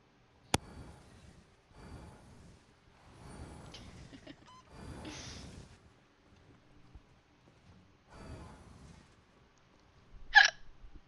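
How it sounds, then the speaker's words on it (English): Hiccups break up quiet room sound in a gaming voice chat, with a few soft vocal bursts and one sharp, higher hiccup near the end, close to the microphone. "Forgive my hiccups, those of you who are not used to them."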